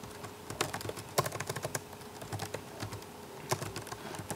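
Quick, continuous typing on a computer keyboard while JavaScript code is entered, with dense, steady clicking over a low background hum and no talking.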